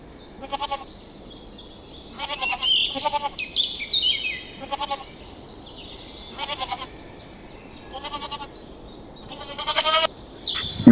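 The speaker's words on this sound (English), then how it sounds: "Goat." A goat bleats in a series of repeated, wavering calls spaced a second or two apart, fairly close and clear over a faint farmyard background, with a few high bird chirps mixed in.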